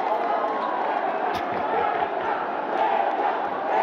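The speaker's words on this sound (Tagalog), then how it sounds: "you can hear the crowd chanting his name" Basketball arena crowd in Dubai chanting a player's name during a PBA game, a loud, steady roar of many voices sustained throughout with slight swells.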